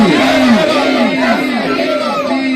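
A large gathering at a Sufi religious address chants a devotional slogan in unison, a loud, dense mass of voices repeating the call in a steady rhythmic wave.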